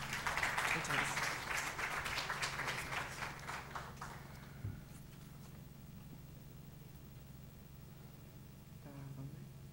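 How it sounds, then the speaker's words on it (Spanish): Audience applause at an academic event, a dense burst of clapping for the first four seconds that thins out and fades, followed by a quiet room with low hum. "Un fuerte aplauso, por favor"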